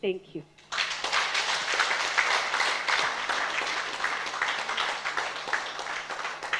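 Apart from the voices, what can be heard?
audience applause at a conference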